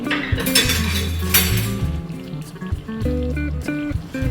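A spoon clinks and scrapes against a cooking pot of Jamaican coconut drops as the thick mixture is stirred, giving bright metallic taps and rattles, close and fairly loud, with soft bubbling underneath.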